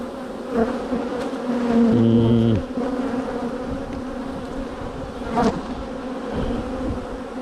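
Honey bees buzz steadily over a brood frame with queen cells hatching, a dense, close hum with a few sharper passes and one brief higher tone rising above the swarm.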